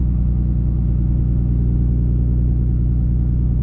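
A 6.7 Cummins diesel truck engine with a 4-inch straight pipe exhaust rumbles steadily at a low, even idle, loud and close throughout with no talking.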